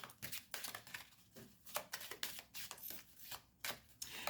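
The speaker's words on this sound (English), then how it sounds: "I feel as I'm shuffling the cards, there's a lot going on." Tarot cards being shuffled close up, a series of crisp riffling bursts and soft slaps in an uneven rhythm, no voices.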